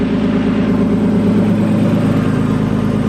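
A Nissan R32 Skyline, fitted with new Splitfire coil packs, idles close by with a steady, smooth, even low rumble and no revving.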